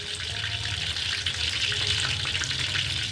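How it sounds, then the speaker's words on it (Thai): Shrimp fry in hot oil with a steady, even sizzle and crackle that holds throughout at moderate volume, with no voices over it. "มันทอดแล้วก็ไปทำอย่างอื่นได้"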